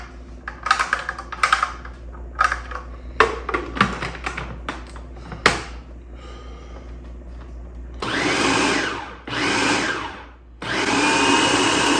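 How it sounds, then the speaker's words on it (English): Raw chicken being chopped and mixed with an egg mixture for homemade copycat McDonald's Chicken McNuggets: rapid irregular tapping and chopping at first, then a loud whirring food processor running in bursts, with no talking. "Now here, we're not only chopping the chicken, we're also mixing the egg mixture with it too as well."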